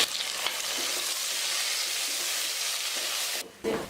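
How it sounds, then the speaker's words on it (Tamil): Tomatoes hit hot oil with browned onions in a pan for Tamil goat leg soup, giving a loud, steady broadband sizzle with a brief dip near the end, no talking. "இப்போ தக்காளி சேர்த்துக்கலாம்."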